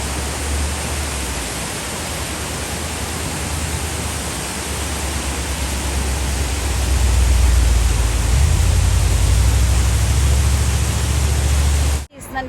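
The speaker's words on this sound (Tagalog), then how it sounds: "Quick stop tayo dito guys sa magandang waterfalls na yan" A roadside waterfall along the Road to Hana in Maui rushes as a dense, loud, steady roar of falling water, with deep wind rumble swelling in the second half and a voice audible now and then.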